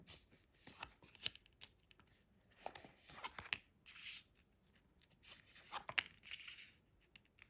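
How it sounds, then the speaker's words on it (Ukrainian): Tarot cards slide and snap as they are drawn from a deck, several quick rustling, papery strokes spaced across a few seconds, close and fairly quiet, with no talking. "Витягаю для вас три карти."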